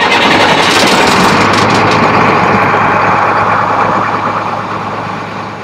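A fire truck's engine runs close and loud with a steady, rumbling idle and a low hum underneath, then eases gradually toward the end, with no one talking over it.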